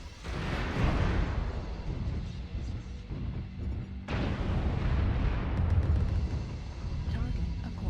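Incoming missile barrages in MechWarrior Online, a sustained roar of rumbling explosions and impacts with a sharp fresh burst midway, loud and continuous under faint game voice alerts.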